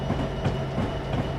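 A freight train rolls along rails in a Train Simulator 2015 game on Cajon Pass, with a steady low rumble and a faint rhythmic clickety-clack of wheels, heard alone.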